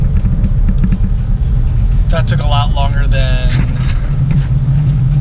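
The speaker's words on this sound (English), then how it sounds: "Back in the car, gonna head back home." A car drives along with a steady low engine rumble and road drone, and someone talks briefly over it midway.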